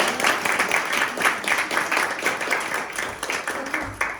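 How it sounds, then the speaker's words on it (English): Applause from a Toastmasters club meeting welcoming two newest members, a steady patter of clapping from a small group lasting several seconds with no talk over it. "please give a round of applause to our 2 newest members"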